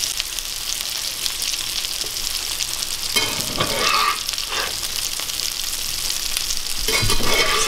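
Black bean burger patties fry in a hot pan, a steady close sizzle running throughout with brief louder crackles and bursts of spatter partway through, no voices.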